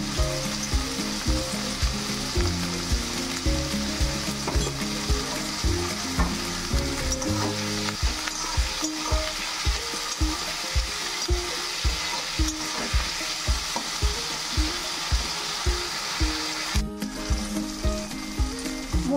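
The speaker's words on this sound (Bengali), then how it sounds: "ভালো করে ভেজে নিয়েছি পেঁয়াজ, টমেটো, কাঁচা লঙ্কা।" Onion, tomato and green chilli fry in a pan for a Bengali mashed loitta fish dish, giving a steady close sizzle. Regular stirring scrapes sound throughout, over a constant bed of background noise and no talk.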